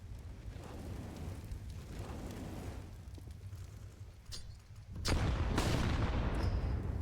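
Pistol fire from a Glock in a Counter-Strike match, a few sharp distant shots early on, then a loud close burst around the middle followed by denser, louder gunfire and action noise, with no talk.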